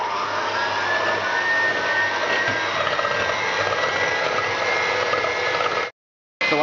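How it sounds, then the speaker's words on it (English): Continuous loud whirring of an electric whisk beating eggs, sugar and vanilla essence in a bowl over heat, steady and close, then cutting off abruptly near the end. "We're going to put the bowl with the eggs, sugar and vanilla essence on, and then we're going to whisk it while it's over the heat."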